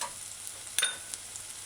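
Vegetables sautéing over medium-high heat for a broad bean and pepper stew, a soft continuous sizzle with a few scraping stirs of a utensil in the pan, close and without talk.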